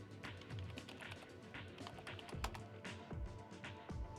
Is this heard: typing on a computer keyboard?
yes